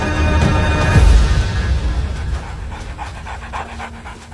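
African wild dogs panting after chasing impala in dry bush, a steady close rasping pant that carries on throughout with no voices.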